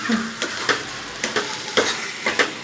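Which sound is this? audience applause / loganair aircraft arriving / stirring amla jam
stirring amla jam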